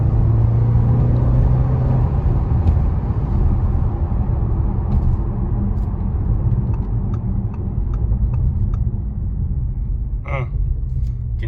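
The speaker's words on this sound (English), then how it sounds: "You can hear the sound of those downshifts" A 2017 Audi RS7 heard from the cabin during downshifts. A loud, steady low exhaust rumble drones throughout, with slight rises and dips in pitch and a brief sharper blip near the end.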